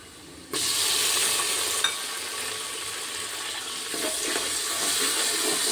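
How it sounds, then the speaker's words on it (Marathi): Onion, green chilli and curry leaves hit hot oil in a pan, and a loud sizzle bursts in and then holds as a steady hiss, alone with no speech. "इथे मिरची, कढीपत्ता, इथे जे छान ब्राऊन कलर होईपर्यंत भाजून घ्यायचा आहे कांदा"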